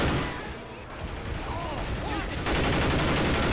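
Rapid gunfire in the video game Left 4 Dead 2 during a fight against a tank, with dense overlapping shots, noisy bursts and a louder stretch near the end.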